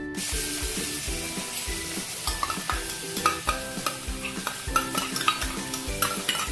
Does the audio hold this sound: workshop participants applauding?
no